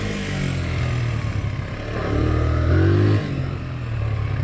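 A 1983 Honda XL100 motorcycle engine runs with a steady low thrum, rising briefly in a rev near the middle before settling back, close and without speech.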